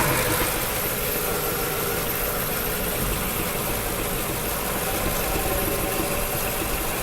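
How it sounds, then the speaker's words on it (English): A 2002 Mercedes S430 V8 engine idles roughly with a misfire, a steady close broadband rumble and rattle carrying faint irregular pops throughout, no talking. "And it is still misfiring. I've got a little bit of popping going on there."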